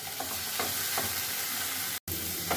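Ginger-chili paste and masala sautéing in a pan for a mushroom curry, a steady close sizzle with light stirring scrapes, briefly cut off by a short gap near the end.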